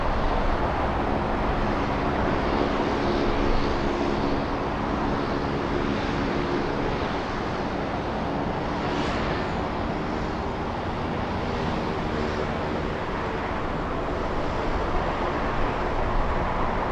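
An airplane passes at LAX airport, a steady, fairly distant engine rumble and hiss that stays even for the whole stretch without a sharp peak.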